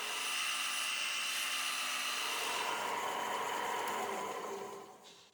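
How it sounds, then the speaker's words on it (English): A sanding disc grinds steadily around the perimeter of a hardwood knife handle, a loud continuous whine that tapers off in the final second. "working my way carefully around the perimeter of the handle on the sanding disc"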